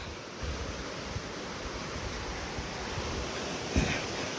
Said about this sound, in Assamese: একদম পূৰা পানী চাউণ্ড আহি আছে